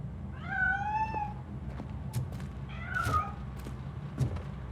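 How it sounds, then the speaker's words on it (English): A cat in the video game Robocop: Rogue City meows twice, a drawn-out falling meow followed by a shorter one, over a low background hum with a few soft thumps. "That cat must be hiding inside."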